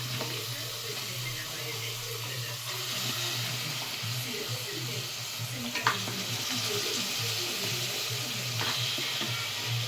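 Par-cooked mutton frying in a pan, a continuous moderate sizzle with occasional stirring scrapes and a couple of sharp clicks, no talk over it.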